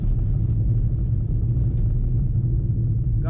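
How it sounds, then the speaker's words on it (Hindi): A Hyundai Grand i10 with 1,10,000 km on it, heard from inside as the engine pulls under acceleration, a steady low rumble that stays loud and even with no talking. "तो अब आपको दिख रहा होगा कि कैसी साउंड इसमें आ रही है। मैं थोड़ा सा पिकअप लेता हूँ।"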